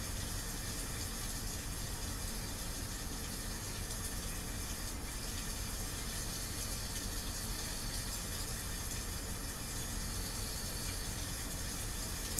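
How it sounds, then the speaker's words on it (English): Steady, faint hiss of a recording of rainfall playing continuously, an even wash of noise with no breaks or voices. "I have a little tape going on of rain."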